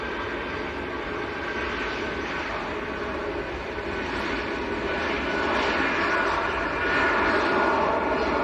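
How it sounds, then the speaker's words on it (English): Steady, loud roar of jet airliner engines at Manchester Airport, a TUI Boeing 787-9 Dreamliner lining up for departure, with the engine noise swelling gradually over several seconds and no voices. "we're going to do for this Dreamliner that's lining up"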